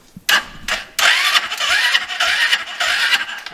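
An electric Power Wheels ride-on toy car motor kicks on in two short bursts, then runs steadily with a whirring mechanical drone that wavers in pitch, close and fairly loud with no talk.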